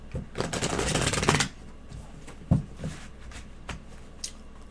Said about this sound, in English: You gotta shuffle.